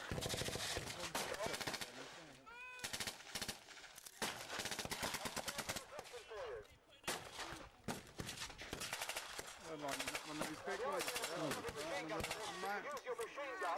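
An MG42 machine gun fires in repeated rapid bursts at a WW2 reenactment battle outdoors, loud and near, with other gunshots crackling around it and voices talking between the bursts.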